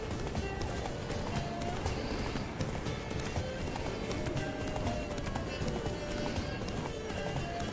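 The Witcher 3 gameplay: steady, dense drumming of a horse galloping at full pace, continuous and close, with a faint whinny in the background.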